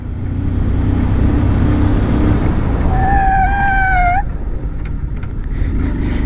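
Rear disc brake on a 2022 Bajaj Pulsar 150 twin-disc motorcycle gives a rising, close squeal lasting about a second, laid over a steady engine and road rumble that continues after the brake releases.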